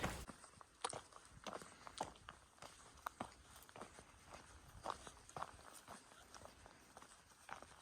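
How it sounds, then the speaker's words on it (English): Nearby footsteps on a hiking trail along the Appalachian Trail in Shenandoah, a steady series of soft crunching steps at a walking or jogging pace over quiet outdoor background. "Definitely hear a lot of footsteps over there, but I can't figure out what it is."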